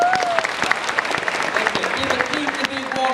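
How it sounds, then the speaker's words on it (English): A crowd at a sci-fi convention in Stockholm applauds actor David Morrissey, a dense, steady patter of many hands clapping throughout, with a voice speaking over it. "Give a big warm applause to David Morrissey"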